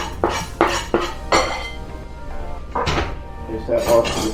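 Chopped chocolate goes into a bowl with several sharp clinks and clatters of dishes and utensils, close and distinct, while a person talks throughout.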